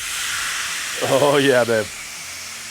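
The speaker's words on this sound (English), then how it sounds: "Got that good sizzle going." Continuous sizzling hiss from flank steak cooking on a hot Ninja Woodfire grill, with a man's brief exclamation spoken over it partway through.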